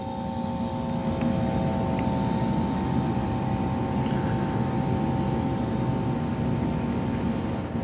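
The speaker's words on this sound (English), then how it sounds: "right here is the lubrication pump. It's a Minster loop pump." A Minster loop lubrication pump runs on the back of a 60-ton Minster OBI flywheel press, giving a steady, continuous mechanical drone with a faint tonal whine that holds at an even level throughout.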